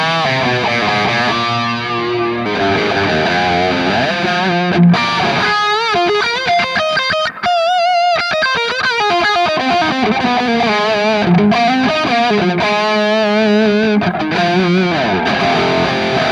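Heavily distorted electric guitar run through a Kemper amp profile with chorus and a big, scooped tone, playing sustained chords and melodic lines loud and continuous throughout, with no talking.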